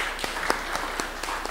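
Audience applause at a panel session of the Black Is Back Conference, August 2012, a dense steady wash of clapping close by with a few louder individual claps standing out.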